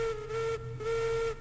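A steam locomotive whistle in the train game Railroads Online gives a steady, moderately loud tone in three short blasts with brief gaps between them.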